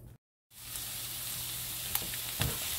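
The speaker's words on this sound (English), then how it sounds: "So we're going to get these onions sauteed" Chopped onions sautéing in a pan, a steady soft sizzle with a few brief clicks of stirring, after a short moment of silence at the start.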